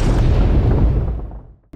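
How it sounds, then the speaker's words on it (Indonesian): Explosion in an animated series, a loud deep boom that rumbles and decays over about a second and a half before a brief sharp sound at the end. "Hingga mereka pun melihat adanya sebuah ledakan."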